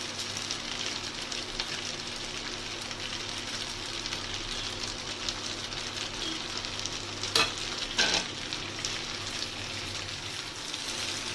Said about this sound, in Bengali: ডিমগুলো পাস্তার সঙ্গে ভালো করে মিশিয়ে দিতে হবে